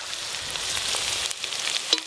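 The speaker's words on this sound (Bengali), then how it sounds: "আদা রসুন পেঁয়াজ একসঙ্গে একটু ভালো করে ভাজা ভাজা করে নিয়েছি। এবার জিরে বাটা দেবো।" Ginger, garlic and onion pastes fry in hot oil with cumin paste going in, giving a steady close sizzle with a few brief crackles and stirring scrapes, for a pangas fish curry.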